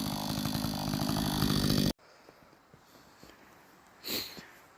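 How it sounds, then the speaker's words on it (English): An old chainsaw at work cutting a pile of logs, its loud, steady engine roar filling the first two seconds before cutting off abruptly, followed by quiet ambience and a brief rushing burst near the end. "The old chainsaw's working good now."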